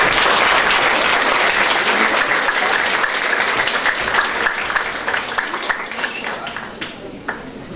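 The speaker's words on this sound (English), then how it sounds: "Give them a round of applause, please" Audience applause fills a school junior prize giving ceremony, dense and steady clapping from a large crowd that gradually thins and fades toward the end.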